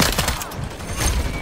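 Rapid gunfire in Modern Warfare 3, a short dense burst of shots fired in quick succession, loud and close, with no talking.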